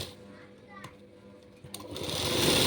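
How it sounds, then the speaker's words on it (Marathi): A sewing machine stitches fabric for a designer jacket, starting after a short pause and building into a steady mechanical whir, close and growing louder toward the end. "आता इथे व्यवस्थित कपडा करून आपल्याला शिलाई द्यायची आहे"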